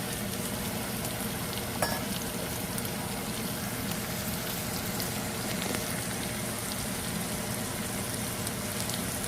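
Okra hitting hot oil in a pan of frying adobong sitaw (string beans), giving a steady, dense sizzle that holds evenly throughout with no talking.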